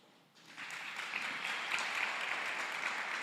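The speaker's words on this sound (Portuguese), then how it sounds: "aplauda o nome do Senhor Jesus" A church congregation bursts into applause after a quiet moment, the clapping swelling within half a second and holding as a steady, dense roar of many hands in a large hall.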